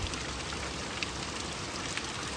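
Heavy rain pours down during a thunderstorm in Westland, Michigan, as a dense, even hiss with scattered drop impacts and no voices.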